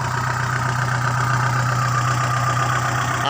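A 47-horsepower farm tractor engine idles steadily at a buffalo farm, a continuous low rumble with a mid-range drone that holds constant throughout without other sounds.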